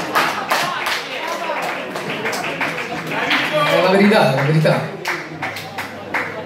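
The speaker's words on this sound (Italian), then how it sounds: "No, vedi uno dietro al bancone che applaude." Live concert audience at a bar gig applauds, scattered claps heard under loud talking and chatter throughout.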